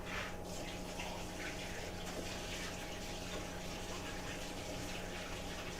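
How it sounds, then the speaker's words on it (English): Tap water runs steadily and continuously while sticky dough is rinsed off fingers, a constant rushing wash at moderate level with no talk. "But I will rinse them off real quick."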